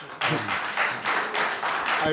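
A commission meeting audience applauds in a steady wash of clapping with rhythmic surges, moderately loud, with a voice faintly underneath.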